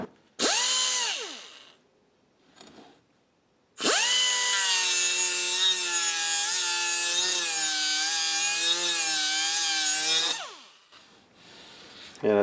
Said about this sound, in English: what I plan to do is take my 2-inch sanding disc